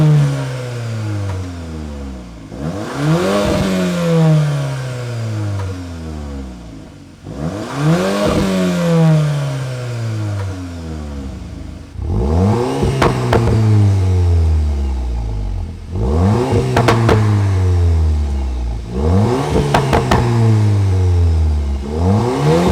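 A VW Golf R Mk8 fitted with a Milltek exhaust is revved repeatedly at close range, each sharp blip rising and then falling away. The engine idles between the revs, and the blips come faster toward the end.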